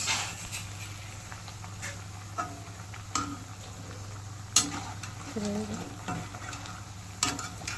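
Pav vada frying in a pan, a steady soft sizzle beneath occasional clinks and scraping of a utensil, with a few sharper knocks scattered through and no talk.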